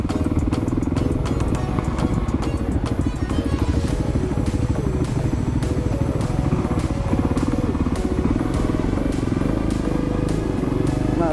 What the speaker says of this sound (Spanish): el Andrés se le va la moto un poco